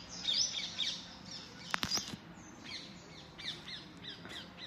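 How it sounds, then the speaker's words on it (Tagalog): Several birds call outdoors, with harsh crow-like caws and scattered chirps at a moderate distance over faint background hiss. "Ingay po ng mga ibon, no?"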